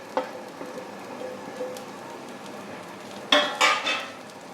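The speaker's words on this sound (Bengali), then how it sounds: "লঙ্কার গুঁড়ো দিচ্ছি ধনের গুঁড়ো দিচ্ছি আর জিরের গুঁড়ো দিচ্ছি" Chili, coriander and cumin powders go into a hot pan with eggplant, potato and rohu fish cooking, giving a soft sizzle with light clinks, then a sudden louder burst of frying near the end.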